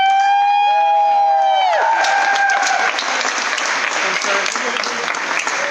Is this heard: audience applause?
yes